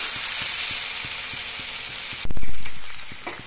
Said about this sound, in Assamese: মাছখিনি অলপ ফ্ৰাই কৰি ল'লোঁ।